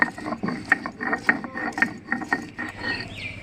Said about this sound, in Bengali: এবার আমি লঙ্কাগুলো বেটে নেব।